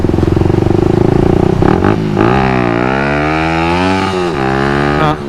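A Suzuki Satria FU motorcycle revs hard into a wheelie, loud and close, with a rapid throbbing engine note that climbs in pitch, wavers and then drops off.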